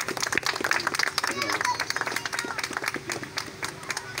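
An audience at a cycling club gathering claps in a steady, lively patter that continues throughout, with crowd murmur and voices underneath.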